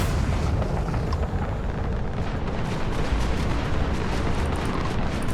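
Enemy ships firing in the space video game Space Scoundrel, a dense, continuous barrage of booming, explosive blasts that rumbles loudly throughout with no talk over it.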